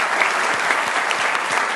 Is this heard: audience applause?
yes